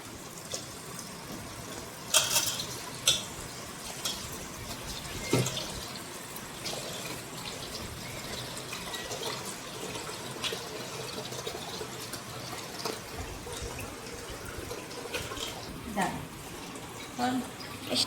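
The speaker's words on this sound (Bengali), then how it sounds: "ঘিটা আমি ভালো করে ধুয়ে নেবো 1-2 বার" Ghee is washed with water, with splashing and running water, occasional louder sloshes and knocks, and steady background noise throughout.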